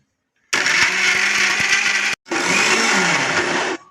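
Mixer grinder blending amla, curry leaves and tamarind water: a loud whirring motor runs in two bursts, cutting out briefly between them before stopping.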